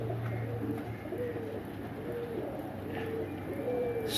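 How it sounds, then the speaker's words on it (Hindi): A pigeon gives soft, repeated coos that are faint against low background hum and room noise, with no talking. "सॉलिड ज़मीन की कबूतरी है जी।"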